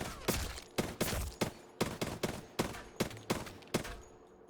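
Gunfire in the video game Apex Legends, about eleven evenly spaced shots in quick rhythm, punchy and clear with short echoing tails, no talking.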